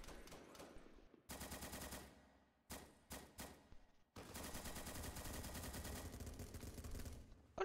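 Automatic gunfire from the Roblox game Blackhawk Rescue Mission 5 comes in several rapid bursts of varying length separated by short gaps, fairly faint overall, with no speech.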